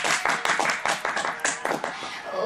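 Hands clap in a quick, steady rhythm, sounding like a small group keeping time together to a trot song, fairly close and lively.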